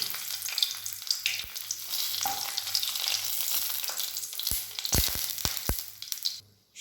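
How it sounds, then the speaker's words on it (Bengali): Four dried red chillies fry in hot mustard oil in a kadai, a steady close crackling sizzle broken near the end by a few sharp pops and stirring knocks, with no talk. "তেলটা গরম হয়ে গেছে, এবার আমি শুকনো লঙ্কা 4টে ভেজে নেব।"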